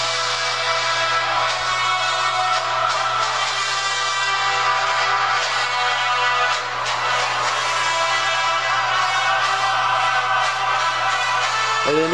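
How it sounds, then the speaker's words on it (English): A phone's default ringtone plays as a dense, continuous melodic tune, loud and steady for about twelve seconds with no talking. "this is my"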